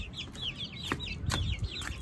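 Chickens cluck in short repeated calls, with a few louder squawks, at close range as they are herded into their cages during rain; no talk over them.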